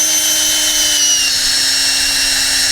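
Power drill fitted with an auger bit boring planting holes in garden soil for spring planting, a steady close whine running continuously throughout with no pauses.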